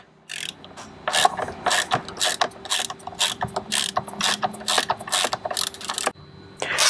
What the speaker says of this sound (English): Finally, you need to remove the T25 bolt that's holding in the buttons on the back of the steering wheel.